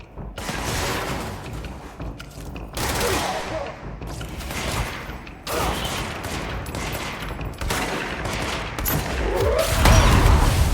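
An exploding forklift in the video game Control goes off right beside the player, part of a run of loud, dense blasts and crackling bursts that keep hitting in close succession for several seconds.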